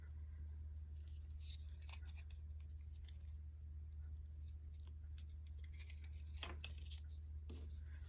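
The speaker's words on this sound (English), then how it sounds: "We're cutting the twine" Scissors snip through twine for a homemade snowman Christmas ornament, giving several brief, faint clicks over a steady low hum.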